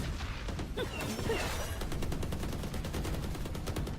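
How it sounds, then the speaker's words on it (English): Rapid gunfire bursts from a Valorant esports match crackle continuously through smoke, dense overlapping shots with a sharp whoosh early on, loud and steady throughout with no voices. "That's a lot of gunfire through the smokes there."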